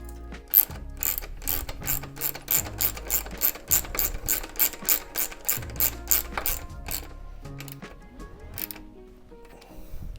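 A ratchet tightens intercooler pipe clamps on a Nissan R33 GTR, making rapid rhythmic clicking bursts close by, about twenty strokes in a row, then slowing to a few scattered clicks and metallic handling noises.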